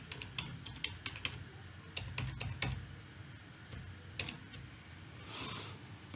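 Password keys tapped on a computer keyboard during a CentOS 7 install, a quick run of close, crisp clicks in short bursts with small pauses, no talking.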